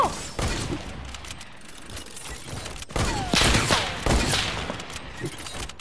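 Gunfire rings out in the video game Fortnite during a sniper shootout, with several sharp, loud shots and mechanical clicks spread unevenly across the moment.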